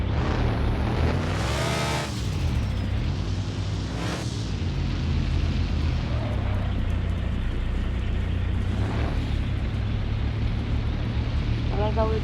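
A Kia car drives in the mobile video game Indian Bikes Driving 3D, its engine giving a steady, close droning hum with shifting pitch through the whole stretch, plus occasional whooshes.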